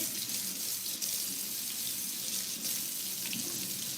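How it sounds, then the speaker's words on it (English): A kitchen tap runs steadily while a spatula is rinsed beneath it, a continuous close hiss of water into the sink with slight splashy shifts and no talking. "I'm gonna wash my spatula and then I'm gonna wash my hands"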